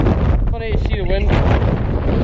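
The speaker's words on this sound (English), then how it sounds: "It's so windy!" Strong wind buffets the microphone during a bike ride, a loud, steady broadband roar that fills the whole clip, with a brief voice-like tonal sound rising through it midway.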